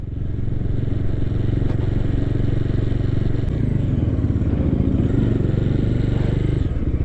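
A Dominar 250 motorcycle runs with a steady, loud engine drone close by while being ridden and brought in to park, with faint clatter over the idling rumble.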